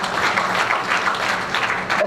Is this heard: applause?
yes